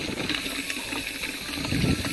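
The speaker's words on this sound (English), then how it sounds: "You should see the butane coming out as a liquid if you tip it upside down" Liquid butane pouring from an upturned can into a bottle, a soft continuous hissing gush, faint and close, with no voices.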